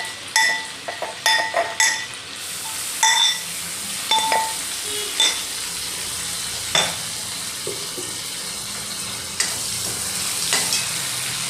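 Green chillies sautéing over low heat in a pan, a steady close sizzle broken by scattered clinks and scrapes of a spoon stirring against the metal, with no talk.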